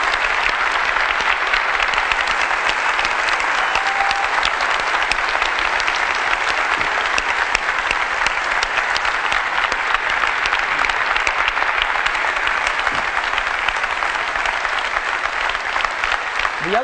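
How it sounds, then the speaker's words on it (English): Sustained, loud applause from a large keynote audience at Macworld San Francisco honoring the iPod Shuffle team, a thick unbroken wash of clapping that continues evenly for its whole length. "I'd just like to give them all a round of applause."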